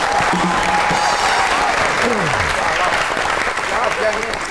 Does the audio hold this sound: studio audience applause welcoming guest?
yes